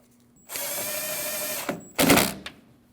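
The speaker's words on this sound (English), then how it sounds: "Take your 10mm bolt, install it back into the hole, and tighten the bolt." A power drill drives a 10mm bolt into a 2012-2016 Honda CR-V front door, a steady whir of about a second followed by a short louder burst as the bolt seats, close and alone.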